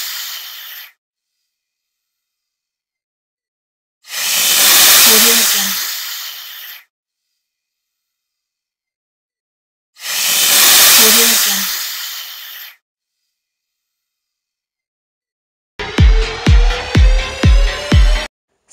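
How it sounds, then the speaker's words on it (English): A sea snake gives two long, breathy hisses of about three seconds each, separated by silence, followed at the end by a short burst of rapid, pulsing rattle-like sounds. "Sea snake."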